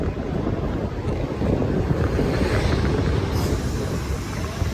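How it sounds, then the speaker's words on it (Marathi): A MEMU commuter train runs between stations on the Diva to Vasai line toward Juchandra Road, giving a steady, loud rolling rumble mixed with heavy wind buffeting, with no talking. "ट्रेन चालू आहे"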